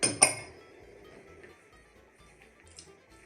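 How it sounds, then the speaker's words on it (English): Two sharp clinks of a utensil against a mixing bowl while dry ingredients are stirred for rum balls, followed by soft faint scraping and light taps, quiet and close with no talk. "gonna just mix up the dry ingredients first so they're kind of homogeneous"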